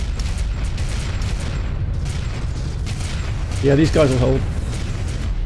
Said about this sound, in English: Bit of help from the artillery cruisers.